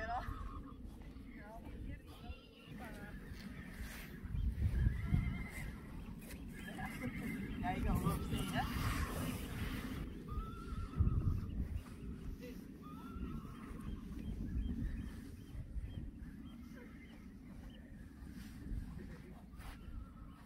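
Ten Friesian horses galloping outdoors, a rumbling run of hoofbeats rising and falling with a few neighs and whinnies, wind noise, and people talking throughout.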